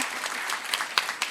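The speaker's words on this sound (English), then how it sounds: "please give a very big round of applause" Short burst of audience clapping at an International Women's Day event in Manipal, a dense patter of many hands with a few sharper claps, fairly close and without voices.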